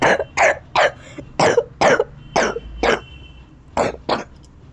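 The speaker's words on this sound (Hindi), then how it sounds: "एकदम देखो सूखी खांसी आ रही," A person coughs dryly in a string of about ten harsh, hacking bursts, close and loud, with short pauses between them.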